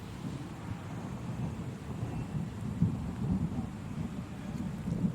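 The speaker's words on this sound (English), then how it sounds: "it is thundering. You can hear that, that's for sure." Faint, low thunder rumbles in the distance through steady rain at a wet motor race circuit, with one slightly stronger roll midway and no voices.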